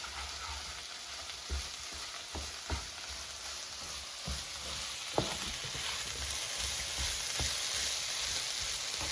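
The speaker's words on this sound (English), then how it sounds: "And now mix it so they're coated with seasoning." Pan-fried eggplant and zucchini, seasoned with garlic powder and paprika, crackle in a steady, quiet frying hiss as they are mixed, with scattered soft spatula taps against the pan.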